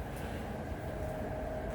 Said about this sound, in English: there's a train, you know, the train's always kicking